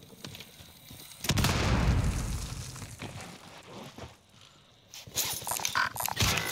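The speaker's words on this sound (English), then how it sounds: "Frag going out." A frag grenade in Call of Duty Warzone bursts into a loud, rumbling explosion that rolls on for about two seconds, followed by quieter mechanical clatter and a few sharper bangs.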